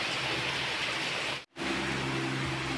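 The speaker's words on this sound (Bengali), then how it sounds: "দেখো কি জোরে বৃষ্টি হচ্ছে" Heavy, torrential rain pours steadily near a rooftop, a dense unbroken hiss that briefly cuts out in the middle before resuming just as loud.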